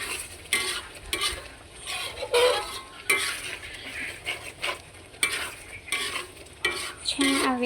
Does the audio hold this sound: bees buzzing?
no